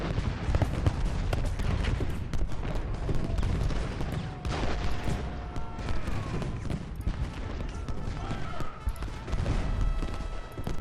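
Massed musket volleys from Confederate infantry lines in the Civil War strategy game Ultimate General: Gettysburg, a dense, unbroken crackle of rifle fire layered with heavier booms, loud and continuous throughout.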